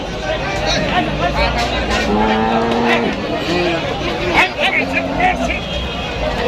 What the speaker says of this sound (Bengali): এই যে আরো গরু নামতেছে কেবল